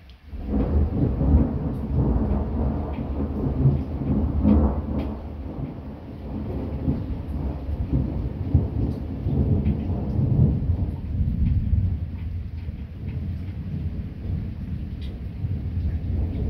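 Deep rolling thunder rumbles on and on through a thunderstorm with rain falling, a loud low growl that swells and fades over several seconds with no voices.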